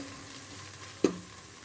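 Biryani masala frying in oil makes a soft, low sizzle with one brief scrape or clink as it is stirred, close and fairly quiet.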